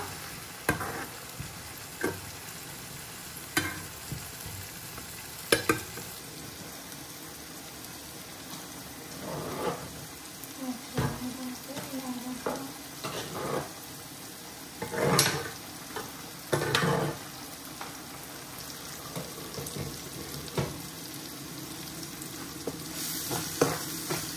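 Onions sizzle softly in a pan for a Bangladeshi beef curry while a spoon stirs them in irregular scraping strokes and taps, the quiet frying hiss running underneath the intermittent louder clatters.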